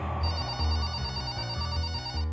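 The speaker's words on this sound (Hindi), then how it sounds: "अरे कब से फोन बज रहा है?" A telephone rings in repeated electronic bursts with a steady, shrill tone, fairly loud and close, no voices.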